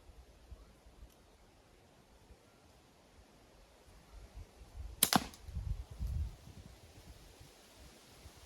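A single slingshot shot fired outdoors at a five-metre range, a sharp crack followed by a brief low thud and rustle, standing out against a quiet background.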